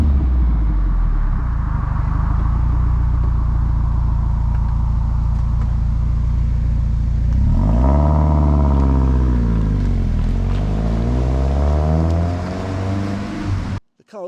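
A Lancia Delta HF integrale Evolution with a modified exhaust idles in a steady, loud, burbling drone, then revs up and back down in a smooth rising and falling sweep before cutting off at the end.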